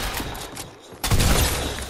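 A shotgun blast in Fortnite: a harsh, loud burst of noise erupts after a brief quieter moment, followed by rough, crackling rumble continuing to the end.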